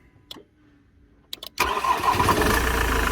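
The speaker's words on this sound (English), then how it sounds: "Start a motor, no question about it." Car engine with an intermittent starting fault: a few brief clicks and a short crank, then it catches and settles into a loud, steady idle close by, with no talking.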